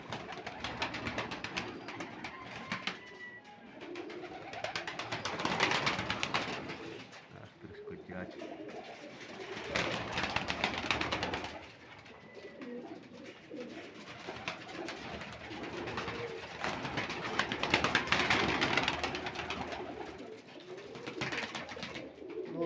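Pigeons coo repeatedly in soft, rolling bursts against a busy outdoor background, with occasional other bird calls mixed in.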